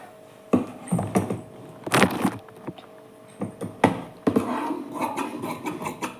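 Scissors cut through blouse fabric on a table, with irregular snips, rustles and taps of cloth and blades, close and moderately loud, with no talking.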